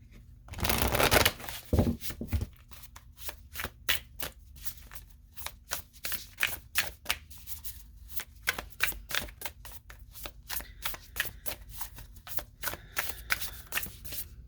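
Sacred Forest Oracle cards being shuffled by hand, a loud riffling burst at the start followed by a long run of quick, crisp card flicks and taps close to the microphone, with no voice.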